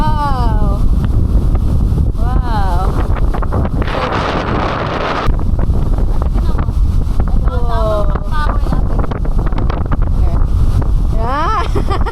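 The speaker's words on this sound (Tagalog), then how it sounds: "So pagkakalakas na hangin." Strong wind buffets the microphone on a boat at sea, a steady roaring gust noise throughout with surf and water in the background while people talk over it.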